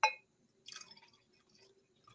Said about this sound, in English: You got to pour slow.